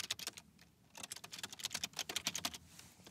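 Keys on a computer keyboard are tapped in quick bursts while text is entered into a presentation outline, with a brief pause before a longer, irregular run of crisp clicks, close and moderately quiet.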